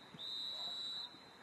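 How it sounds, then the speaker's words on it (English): A referee blows a single long, shrill whistle for halftime at a high school boys soccer match between Masconomet and Beverly, a clear piercing tone lasting under a second over faint crowd ambience. "And there is the halftime whistle"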